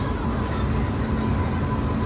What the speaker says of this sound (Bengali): লাস্ট পর্যন্ত মালগাড়ি আসছে, গুডস ট্রেন।